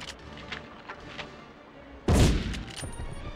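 A sudden loud gunshot blast with a rumbling tail cuts through a quiet game ambience in the Medal of Honor sabotage mission at the Rjukan hydro plant, followed by a few fainter echoes.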